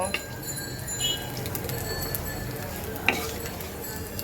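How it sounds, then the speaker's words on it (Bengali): Steady sizzle of ginger frying in a pan with a spatula stirring through it, a single sharp clink near the end. "আদাটাকে সুন্দর করে ভাজতে হবে"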